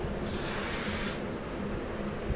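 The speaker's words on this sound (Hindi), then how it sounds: "आपको मतलब एक साउंड क्रिएट होगी जब आप इसको स्प्रे करेंगे" An Odonil lavender room spray bottle gives one loud, close hiss of aerosol that cuts off sharply after about a second, followed by quieter background noise.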